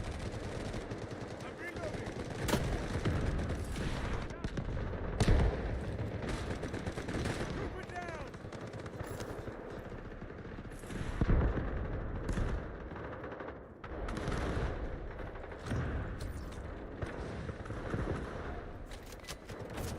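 Rapid gunfire in the online shooter Wildgate, with bursts of automatic shots and single cracks crowding a busy, loud battle scene, several players firing at once with sharp peaks scattered throughout.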